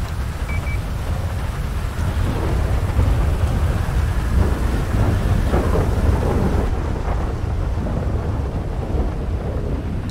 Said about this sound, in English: Thunder's loud as fuck.